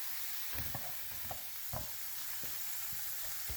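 Frozen vegetables sizzle steadily in a hot frying pan for a shrimp stir fry, with a constant hiss and occasional clanks and scrapes of stirring, close and without talk.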